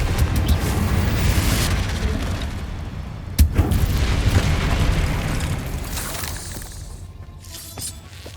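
Confringo spell blasts in the PS5 video game Hogwarts Legacy: a rumbling, crackling explosive roar with one sharp blast near the middle, then gradually fading and thinning toward the end.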